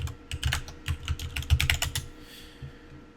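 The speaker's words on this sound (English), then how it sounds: "If I can type correctly, that is" Fast, close typing on a computer keyboard while configuring a pfSense firewall, an uneven burst of clicking keystrokes that slows and fades out near the end.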